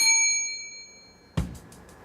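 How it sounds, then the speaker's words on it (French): A bell rings to mark the end, like a school bell: a bright metallic ding fades out slowly, followed after a pause by a sharper clanging strike with quick ringing pulses. "quand c'est fini, on sonne la cloche comme à l'école"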